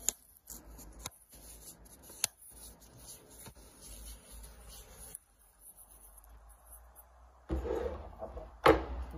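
A sheet of paper is rolled up by hand, giving faint, intermittent crinkling and rustling with a louder papery scrunch near the end, in a quiet room.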